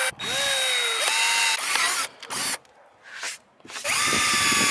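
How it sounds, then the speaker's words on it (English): A power drill bores holes for a Mustang front aero splitter, its close, loud whine rising and settling in several bursts of varying length separated by brief pauses. "we're going to use this as a template and go ahead and drill"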